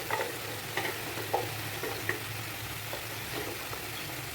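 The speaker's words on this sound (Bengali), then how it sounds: "এবার ভালো করে মশলাটা আমি কষিয়ে নেব।" Ground spices (salt, turmeric, chilli, cumin and pepper powder) being fried and stirred in a pan for a snakehead fish curry, a soft steady sizzle with scattered light scraping ticks of the spoon, close and fairly quiet.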